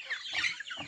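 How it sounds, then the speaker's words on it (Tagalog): Domestic chickens cluck at a rural provincial farm where poultry are raised, a few close, busy clucks and calls in quick succession with no talk. "dito sa ating lugar kung saan tayo nag-aalaga ng mga alagang manok"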